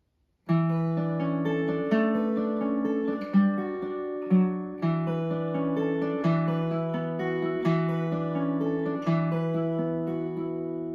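Fingerpicked acoustic guitar plays the gentle repeating intro of "Scarborough Fair", plucked notes and chords, clear and close, with no voices.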